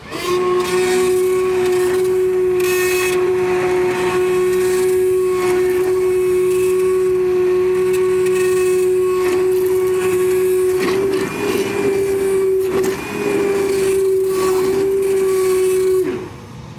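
A blender purees carrot ginger soup in one loud, continuous whirring drone with a steady motor pitch that shifts slightly partway through, then cuts off at the end.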